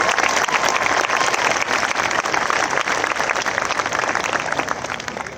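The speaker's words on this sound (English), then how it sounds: "Let's give them a round of applause." Loud, continuous applause from an audience at the SeaPerch 2026 awards ceremony, many hands clapping densely and evenly for about five seconds before slowly tapering off.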